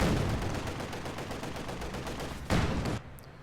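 Rapid machine-gun fire from a T-70 tank against German infantry in Company of Heroes 2, a dense continuous rattle of shots with a louder burst near the end before it cuts off.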